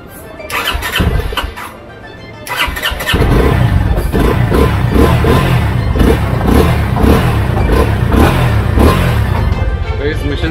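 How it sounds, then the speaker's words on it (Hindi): A motorcycle fitted with a new Amaron Pro Rider battery cranks with a short starter whine, then catches and settles into a steady, throbbing idle with a rhythmic pulse, loud and close. "बैटरी फिट हो चुकी है, तो अभी हम लोग इंजन को क्रैंक करते हैं"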